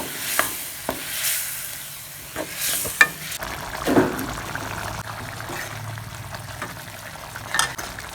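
Pirandai kuzhambu, a tamarind-water curry, cooking in a pan: soft bubbling and sizzling with a few stirring scrapes and clinks of a spoon against the pan, quiet and close.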